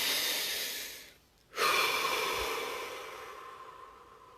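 A single deep breath, drawn in with an airy, hollow rush, then a short pause before a long, slow exhale that fades gradually; close and quiet, with no talking.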